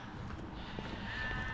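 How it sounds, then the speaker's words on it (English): Sheep bleating in green grassy countryside, a faint, distant, drawn-out call or two under steady outdoor ambience, with no talking. "with all his sheep in the background"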